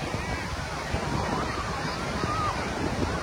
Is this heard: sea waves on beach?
yes